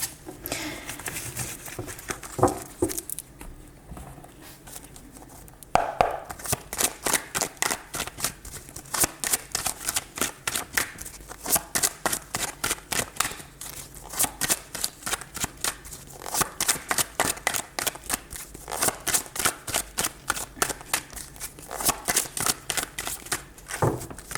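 Tarot cards being shuffled, with a few seconds of softer handling first and then a long, even series of crisp riffling snaps repeating rapidly and close for the rest of the clip.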